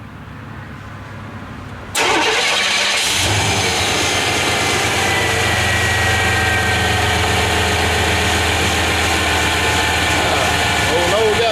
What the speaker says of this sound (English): Alright, let's try to crank it, see what it does.